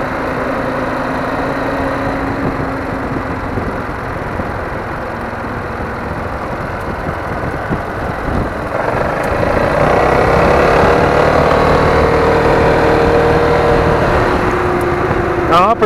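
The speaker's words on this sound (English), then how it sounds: "I'll go from a dead stop, I'll go full throttle, and once I hit 60 miles an hour," A Piaggio MP3 500cc scooter engine pulls away from a dead stop at full throttle on a road, a steady loud drone that swells in the second half as the engine revs climb, with wind noise throughout.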